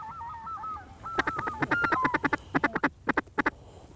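Ducks quack and call over cypress sloughs and deep water during a cold-weather duck hunt in Wabbaseka, Arkansas, a drawn-out call followed by a fast run of sharp, clipped quacks, fairly close and clear.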